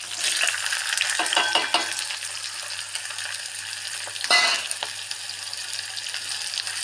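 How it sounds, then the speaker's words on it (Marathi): Thin-sliced onions, three large ones, fry in hot oil in a kadhai for a dhaba-style dum aloo, giving a steady broadband sizzle with a brief stirring burst partway through, close and continuous with no talking. "कढईमधलं तेल गरम झालेलं आहे इथे मी मोठ्या आकाराचे तीन कांदे पातळ मध्ये कापून घेतलेले आहे आता हे कांदे आपण यामध्ये ॲड करणार आहोत"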